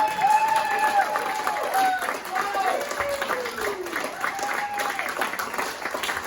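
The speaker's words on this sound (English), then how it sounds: "Make some noise and do not stop clapping until he gets up here." A comedy club crowd claps and cheers continuously as an act is brought to the stage, a thick, sustained roar of applause while a host's amplified voice talks over it.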